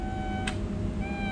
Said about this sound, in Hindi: यहाँ की जो बिल्लियाँ हैं यूएई की